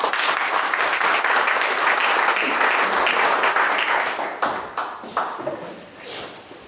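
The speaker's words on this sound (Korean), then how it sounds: "우리 박사님 나오실 때 큰 박수로 맞이해 주십시오" A seated audience at a church pastors' forum lecture on Korean church trends gives steady, full applause to welcome the speaker, then the clapping thins out into scattered claps and fades.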